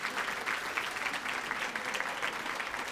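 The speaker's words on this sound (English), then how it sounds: "clap it up, please, clap it up for that" Crowd at the QueerOut Awards 2019 ceremony claps: sustained, even applause from a large indoor audience, dense and fairly loud for the whole stretch with no speech over it.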